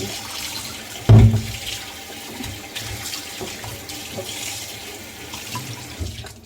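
Tap water runs steadily into a sink while chicken thighs are washed, with a sudden louder splash early on and then an even, continuous rushing flow.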